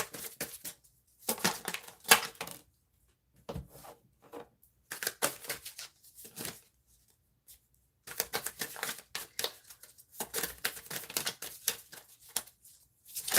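Tarot cards being shuffled in bursts of soft riffling and crisp flicking, close and fairly quiet, separated by brief pauses with no talk.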